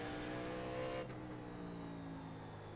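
Race car engine in the iRacing game at North Wilkesboro, holding a steady high-revving drone for about a second before the pitch drops off sharply on lift, then continuing at a lower, slightly softer hum.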